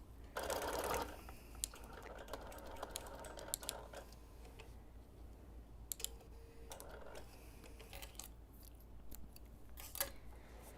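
A quilting machine bastes the layers of a custom Quilt of Valor together, with short bursts of rapid mechanical stitching broken by quiet gaps and scattered clicks, heard close and fairly soft.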